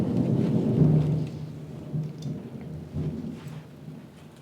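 Thunder from an afternoon storm rumbles low and heavy, with a loud roll at first that fades and returns in softer grumbles, all under a faint hiss of rain.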